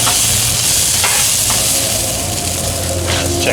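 Steak with potatoes and broccolini frying in grease in a pan, a steady loud sizzle with bubbling crackle and a few stirring scrapes, close and continuous with no talk over it.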